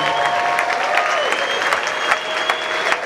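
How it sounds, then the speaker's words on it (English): A film festival premiere audience at the Santa Barbara International Film Festival claps steadily in a dense, continuous round of applause, with a few louder claps standing out near the end. "could you please give Bruce Brown a big round of applause, please?"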